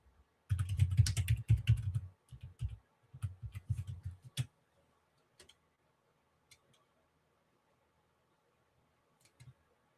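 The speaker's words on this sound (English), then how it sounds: "hold on, I'm typing in something real quick." Bursts of rapid typing on a computer keyboard, close and fairly loud for the first few seconds, then a few scattered single key taps and long pauses of near silence.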